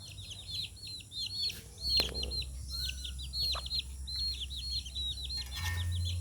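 Chickens cluck and chirp in a yard in a close, faint, repeating pattern over a low steady hum, with a single sharp knock partway through.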